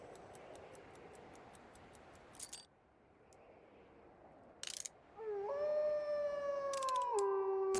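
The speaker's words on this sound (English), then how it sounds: "That is a nice wolf howl" A wolf in the video game Last Train Home lets out a long, clear howl that rises and then settles into a sustained tone near the end. Before it come quiet ambience, faint regular ticks and a few short sharp bursts.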